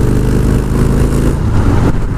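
A Harley-Davidson motorcycle cruises at speed on a motorway, its engine a loud, steady low drone with rushing wind, dipping slightly near the end.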